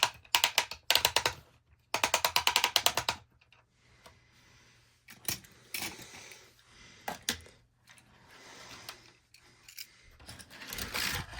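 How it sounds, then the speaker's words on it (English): A Disney Cars 2024 NASCAR Crossover Lane Change race track set is wound up, giving close, quiet bursts of fast ratcheting clicks with short pauses between them and some lighter plastic handling noise. "I'll have to wind this up a little bit more."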